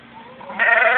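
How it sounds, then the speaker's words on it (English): A baby goat bleats loudly and close by, in one sustained, wavering call that grows stronger partway through. No one speaks. "see the little baby goat?"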